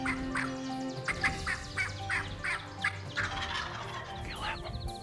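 Wild turkeys gobble repeatedly in a natural outdoor setting, several rapid rattling gobbles spread across the clip at moderate distance, with some birds closer and others farther off.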